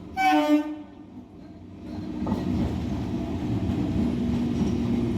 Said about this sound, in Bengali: এই একটা ট্রেন ঢুকলো, এটা হচ্ছে ব্যান্ডেল কাটোয়া লোকাল